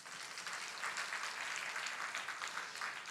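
Faint, steady applause from a church congregation during a Sunday worship service, a soft, even patter of many hands heard at a distance, with no talking.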